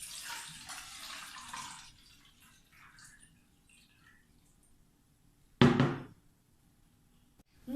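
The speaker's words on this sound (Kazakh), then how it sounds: "Міне, 1 литр су. Үшінші ыдысымызға суды құямыз." One litre of water poured into a vessel, a soft splashing pour that fades out, then a short loud knock or splash near the end, no talk.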